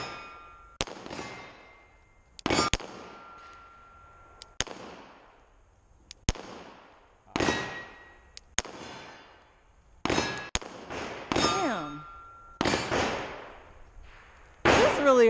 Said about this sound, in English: Shooting the CZ-02.